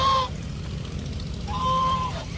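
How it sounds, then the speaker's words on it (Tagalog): A goose on a farm keeping mixed poultry gives two loud, clear, nasal honks, one at the start and another after a short pause, with low background noise between. "Yung gansa natin."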